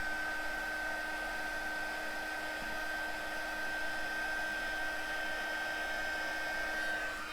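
Heat tool blowing over a card in circular motions, a steady close whine and rush of air with a constant high tone running throughout.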